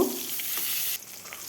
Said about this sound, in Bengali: বেগুনটাও আমি এভাবে উল্টে পাল্টে ভেজে নেব